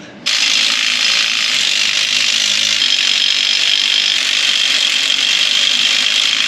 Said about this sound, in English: Okay, bring this jack up.